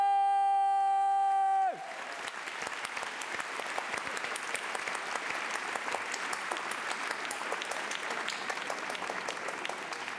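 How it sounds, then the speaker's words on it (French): A comedy show audience breaks into loud, sustained applause with some cheering after a sustained tone cuts off, the crowd's clapping dense and steady for the rest of the stretch. "Sauf toi qu'on applaudit bien fort"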